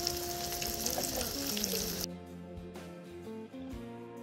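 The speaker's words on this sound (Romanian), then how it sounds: "După ce am pus și ultimele bucăți la prăjit" Carp pieces frying in oil in a home kitchen, a dense bright sizzle filling the first half, then dropping to a quieter, steady crackle with tonal background hum.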